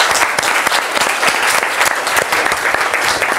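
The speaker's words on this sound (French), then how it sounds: "Je vous demanderai encore d'applaudir le professeur Dominique Renner." A lecture audience applauds a professor at a talk on the conflict in the Democratic Republic of the Congo, with steady, fairly loud clapping from many hands throughout.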